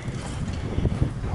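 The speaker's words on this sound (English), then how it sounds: "And I apologize for the wind and all the noise." Outdoors in a park, strong wind buffets the microphone with a low, rough rumble that lasts the whole short moment and carries a few louder gusts.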